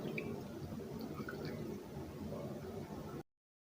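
Water poured over fresh homemade paneer to rinse out vinegar, a steady soft splashing and trickling stream that runs evenly for a few seconds and then stops abruptly, close and faint.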